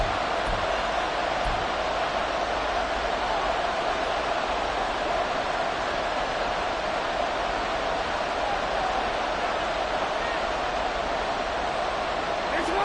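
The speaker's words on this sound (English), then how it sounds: "This crowd turning up the decibel level." Crowd noise at an NFL football game between the Ravens and Dolphins in a stadium, a dense, loud, unbroken roar that holds steady the whole way through.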